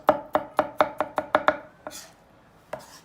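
A knife chops an onion on a cutting board at home in a kitchen, with about eight quick, even, sharp strokes in a row. They are close and clear, and a couple of softer scraping sounds follow alone.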